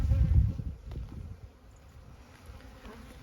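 Honeybees crowd a hive frame during a late winter inspection, a low, steady buzzing close at hand, loudest at first and then easing to a softer hum.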